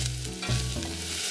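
Onion hits hot oil and fries with an immediate close, loud sizzle and stirring scrapes, hissing steadily for a brief moment.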